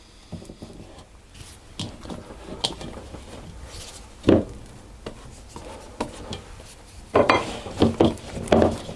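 Sultana bread dough worked vigorously by hand with butter, giving irregular soft rubbing, slapping and scraping noises with sharper thumps near the end, heard alone without talk.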